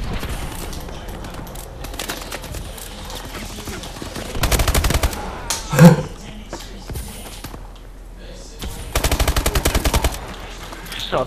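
Video game gunfire comes in two rapid automatic bursts and a single loud shot, with quieter clatter between them and no talking.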